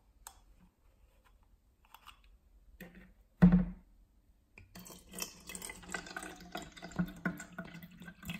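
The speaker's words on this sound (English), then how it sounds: "Let's pour some in to see the TDS and pH levels." Acqua Panna natural spring water from Tuscany, Italy, is poured into a container, a soft continuous trickle and splash that starts after a sharp knock in a quiet room and keeps running to the end.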